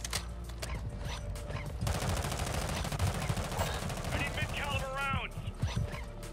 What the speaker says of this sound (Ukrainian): Хто ззаді стріляє?